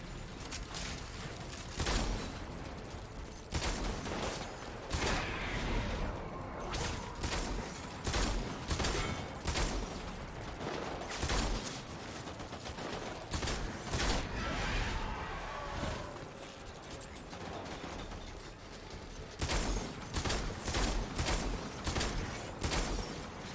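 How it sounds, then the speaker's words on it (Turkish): Repeated shotgun blasts in the video game Death Stranding, loud, sharp reports fired at irregular intervals across the whole stretch, with mechanical clatter between shots. "Ne var? Pompalı tüfek."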